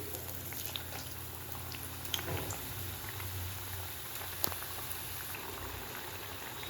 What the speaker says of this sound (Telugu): గోల్డ్ కలర్ వచ్చేంత వరకు వేయించుకొని తీసేసుకోవాలి